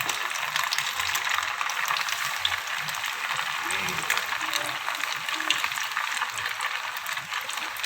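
Egg-coated food sizzles steadily as it fries in a pan over a lowered flame, turned and stirred as it cooks, a continuous close crackle with faint low clatter beneath.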